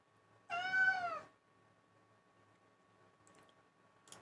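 A single clear cat meow, close and loud, lasting under a second, followed by quiet room tone and a couple of faint clicks.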